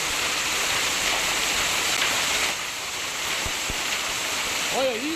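Heavy hail pounding down during a storm in Uberlândia, Brazil, a loud, steady hiss-like roar of ice striking surfaces, with brief voices breaking through near the end.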